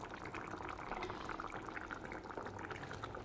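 Mango kuzhambu with mango pieces simmering in a pot, a soft continuous bubbling and gurgle of boiling liquid, quiet and close with no talk.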